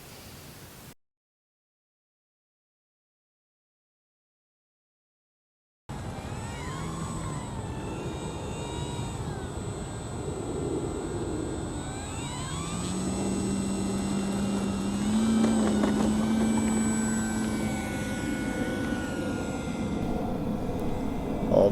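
Arrows RC Husky 1800 mm electric model airplane flying on 4-cell battery packs, a thin buzzing motor whine that rises and falls in pitch as it passes, after a short silent gap at the start.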